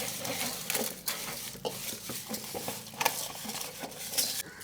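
Fish is scrubbed by hand with coarse rock salt and water, making quiet gritty rubbing and crunching with soft wet pats in an uneven, continuous rhythm, with no talking.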